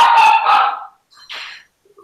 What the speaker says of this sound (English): Sorry, he's barking.